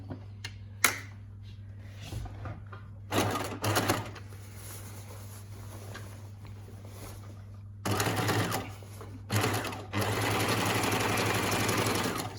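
Domestic sewing machine edge stitching around a scrubs side pocket, running in short bursts of rapid whirring stitches separated by quiet pauses, with a steady low motor hum underneath and a final longer sustained run near the end.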